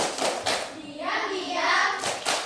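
Schoolchildren in a classroom perform a chanted clapping routine, a few distinct rhythmic hand claps spaced between their voices calling out in unison.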